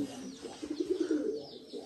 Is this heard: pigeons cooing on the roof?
yes